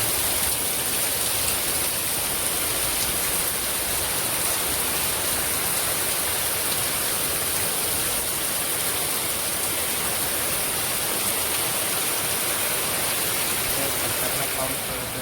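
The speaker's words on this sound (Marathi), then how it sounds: "आमच्या इथला पाऊस एकदम खतरनाकमध्ये पाऊस पडला" Heavy rain pours down outside during a fierce storm with strong wind, a dense, loud, unbroken roaring hiss that fills the whole stretch.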